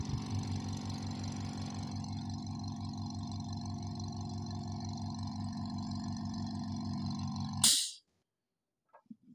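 A Lakoni Basic 9s air compressor runs with a smooth, steady motor hum and rapid rhythmic pulsing, then stops abruptly with a short release hiss, leaving near silence and faint small sounds.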